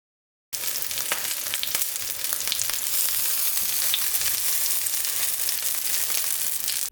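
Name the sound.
spicy Mexican corn fritters frying in canola oil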